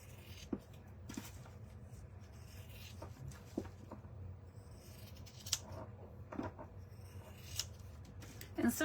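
Scissors snip and rasp through plush Minky fabric, trimming around stitches on a stuffed toy, in sparse close cuts with soft rubbing between them and occasional faint talk.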